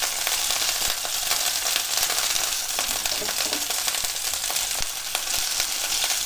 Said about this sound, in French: On fait colorer chaque face de mon filet mignon